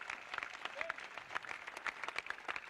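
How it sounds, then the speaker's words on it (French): A church congregation claps and applauds during a live praise and worship service in Dabou, Côte d'Ivoire, with dense, steady clapping throughout and faint voices mixed in. "Let us clap for Jesus."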